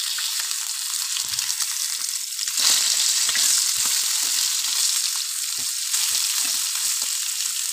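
Fish pieces frying in hot oil in a pan give a steady, close, loud sizzle with crackling bursts, rising briefly around the middle when the fish is turned.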